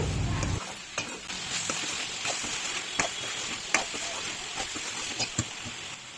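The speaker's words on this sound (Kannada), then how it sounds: "ಖಾರ ಪುಡಿ ಹಾಕಿದ ಮೇಲೆ ಸ್ವಲ್ಪ ನೀಟಾಗಿ ಅದೆಲ್ಲ ಹಸಿ ವಾಸನೆ, ಖಾರ ಪುಡಿದ ಹಸಿ ವಾಸನೆ ಎಲ್ಲ ಹೋಗೋ ಥರ ನೀಟಾಗಿ ಫ್ರೈ ಮಾಡ್ಕೋಬೇಕು." Chicken with chili powder fries in a pan for a dry chicken dish, a faint steady sizzle broken by periodic sharp scrapes and taps of a spoon stirring against the pan.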